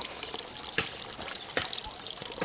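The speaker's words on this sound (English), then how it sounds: "I'm filling this up with water just so it'll stabilize." Water trickles and splashes steadily as it fills an Azolla pit. The flow is quiet and close, with a few louder splashes.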